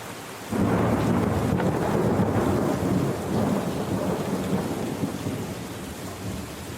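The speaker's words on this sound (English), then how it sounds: "Sort of hard to hear the music with the thunder going off, huh?" Thunder rolls and rumbles through a thunderstorm with steady rain, a loud sustained roar that swells near the start and slowly eases off, with no voices.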